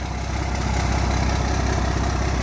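A 12-valve Cummins diesel in a red dually pickup idles loudly and close by, a steady low rumble with rapid even knocking pulses throughout.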